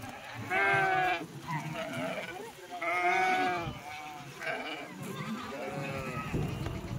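Kathiyawadi sheep unloaded from a livestock vehicle bleat loudly and repeatedly, several drawn-out calls in a row with others answering, while someone talks nearby.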